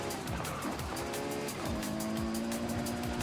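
A Ferrari tuned for speed racing in Forza Horizon 5, its engine revving and shifting through gears with tire squeal in a corner, loud and close amid other racing cars.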